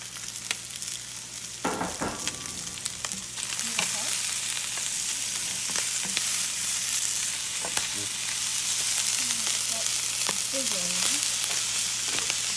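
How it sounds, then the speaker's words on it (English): Onions and peppers sizzle steadily in a hot pan, a continuous close crackle with faint clinks of stirring. "It is sizzling, it's nice."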